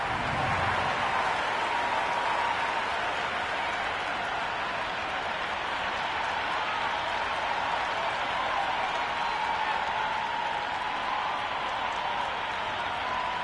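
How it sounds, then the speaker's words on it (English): Stadium crowd noise from a Big Bash League cricket match between Adelaide Strikers and Melbourne Stars in the PS5 game Cricket 26, a steady, dense roar of cheering and applause that holds evenly throughout with no voices standing out. "Well, the ball hasn't even been bowled yet, and this crowd is already making it hard for me to be heard."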